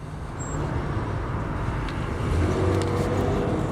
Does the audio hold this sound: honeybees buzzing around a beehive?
no